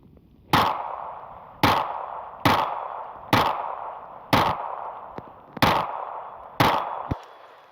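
Glock 42 pistol fired at a target 15 yards away: seven sharp, loud shots at a steady pace of about one per second, each with a brief ringing tail, and no talking.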